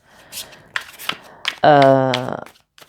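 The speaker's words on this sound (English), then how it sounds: "Let's grab some more cards here as well." Tarot cards are shuffled and drawn close up, with a few quick card flicks followed by one loud, fluttering riffle of about a second that ends crisply.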